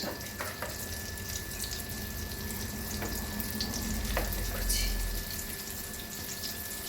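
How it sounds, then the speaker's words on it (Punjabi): Masar dal kababs shallow frying in a little oil over a medium-high flame, a steady soft sizzle and crackle with occasional faint clinks, running continuously at a low level without talk. "ਮੈਂ ਸ਼ੈਲੋ ਫਰਾਈ ਕਰਾਂਗੀ ਥੋੜਾ ਬਹੁਤਾ ਜ਼ਿਆਦਾ ਵੀ ਨਹੀਂ ਤੇਲ ਪਾਇਆ"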